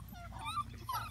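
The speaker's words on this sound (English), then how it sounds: "You guys, first time puppies on grass." Seven-week-old European basset hound puppies on grass make faint, close, high-pitched whimpers and yips in a short, quick burst of several squeaky cries.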